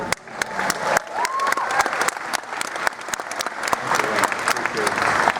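A convention crowd at a Star Trek: The Next Generation panel applauds steadily, dense clapping with some voices mixed in, sharp camera-shutter-like clicks punctuating throughout.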